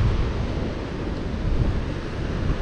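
Steady broadband roar of ocean surf near the seafront at Ballito beach in South Africa, continuous and fairly loud, mixed with wind buffeting a microphone, with no talking.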